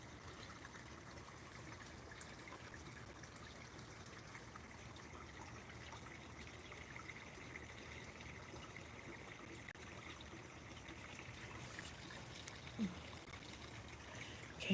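A stream flowing beside a lake on a quiet afternoon walk, a steady low wash of running water heard at moderate distance throughout, even and unbroken with faint outdoor ambience.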